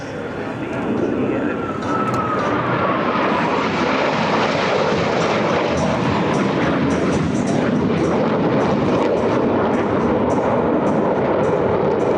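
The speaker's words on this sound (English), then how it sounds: "roll their aircraft to 90 degrees angle of bank and cross canopy to canopy as they perform the opposing knife edge pass" US Navy Blue Angels jets roar through an opposing knife-edge pass at an air show in South Texas, a loud, sustained engine rush that swells early and holds steady, with an announcer talking over it.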